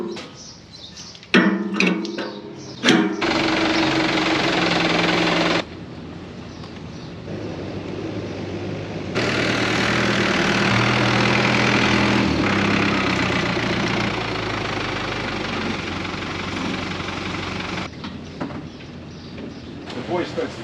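A tractor engine runs on a vegetable farm while pulling a planting tool with a spacing wheel, a loud steady rumble rising and falling in sections, with people speaking briefly around it.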